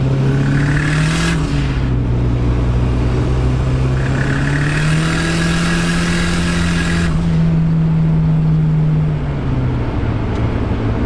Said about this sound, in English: This turbo spools so fast.